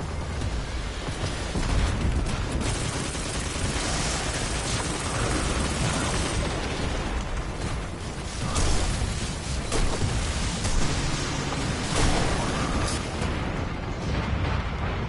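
Explosions and heavy gunfire in the shooter game Destiny 2 during combat with an attacking plane, a continuous dense barrage of booms and blasts at moderate loudness with no talking.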